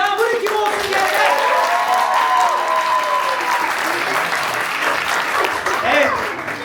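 Audience at an improvised theatre show applauds steadily and loudly, a dense sustained clapping with a voice speaking over it through most of the stretch.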